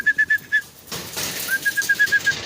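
Pigeons in a racing loft give short repeated calls, a run of four clear pulses, then a rustling burst like wings or movement, then another steady string of about eight soft calls, close by.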